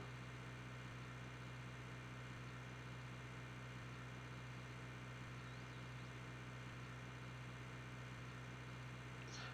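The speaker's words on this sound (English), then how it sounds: "where you can hear more so the tractor than just me waffling on" Steady low drone of a simulated tractor engine in a farming game while planting rye, a constant idling hum with an even rumble and no breaks throughout, heard alone without talk.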